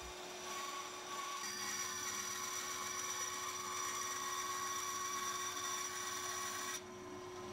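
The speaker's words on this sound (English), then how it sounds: "So I get that marked out and cut out on the bandsaw." Bandsaw cutting wood in a workshop, a steady continuous whine with a sustained tonal hum, fairly loud and uninterrupted for several seconds before cutting off near the end, with no talking.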